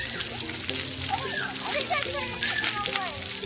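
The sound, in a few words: water splashing from a splash fountain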